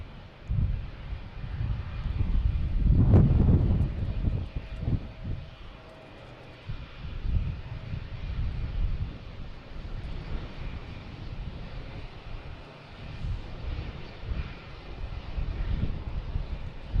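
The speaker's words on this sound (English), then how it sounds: "FedEx should be next taking off." A plane, likely the FedEx A306, takes off at Boston Logan Airport, a loud, sustained low engine roar that swells and then holds as a steady rumble, heard from the airfield's edge with wind noise and no talk.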